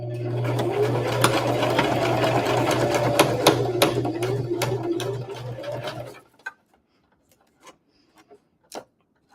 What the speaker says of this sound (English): I'm just going to back stitch and make a line.